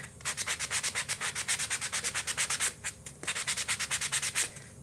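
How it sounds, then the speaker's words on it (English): Brisk back-and-forth rubbing of a sanding block in a steady rhythm for a Christmas tree decor craft, close and fairly quiet, with a short pause partway through. "We'll try a different sanding block."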